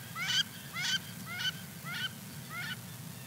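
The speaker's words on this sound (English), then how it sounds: "It's very likely that you flushed some wood ducks, because the female wood duck goes, wee, wee, wee, as you kind of see them fluttering off" Female wood ducks call as they flush from a river, five rising squealing notes spaced about half a second apart, fairly clear over a steady low rumble of background noise.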